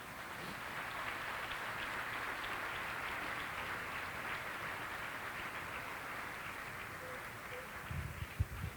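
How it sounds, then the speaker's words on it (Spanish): Church congregation applauds during a Spanish-language sermon, a faint, distant wash of steady clapping that continues evenly, with a few louder low thumps near the end. "Dele un aplauso al Señor este día."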